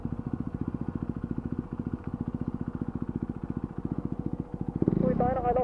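Motorcycle engine running at a steady chug with rapid regular pulses while riding a long mountain road toward Baler, close and continuous, with voices briefly talking near the end.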